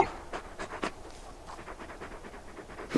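Torgal, the big dog companion in the video game Final Fantasy XVI, pants softly in quick, breathy bursts, fairly faint and close, with no talk over it.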